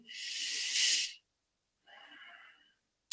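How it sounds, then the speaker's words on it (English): Audible breaths during a guided breathing exercise: a long, strong inhale of about a second, a pause, then a softer, shorter breath, with the start of another at the end, close and clear without talk. "So breathing in, you expand the balloon."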